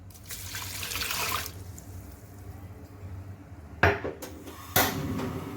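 Water poured from a vessel into a pressure cooker holding mince, tomato, garlic and onion: a short splashing pour, then quieter kitchen sounds, then two sharp metallic clatters with more splashing, close by.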